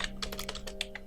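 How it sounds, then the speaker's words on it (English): Fingers tap quickly on a computer keyboard, a close, quiet run of crisp key clicks with no talking. "What am I typing?"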